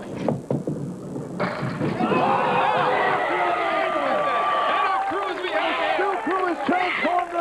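Spectators cheer, shout and clap at a candlepin bowling challenge, loud and continuous, with a thud of pins near the start and voices chattering through the crowd noise.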